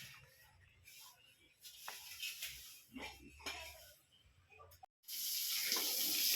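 Water runs steadily from a hose or tap while a pig pen is being washed, with splashing and clattering through the first part, a brief drop-out, then a louder, fuller gush of water.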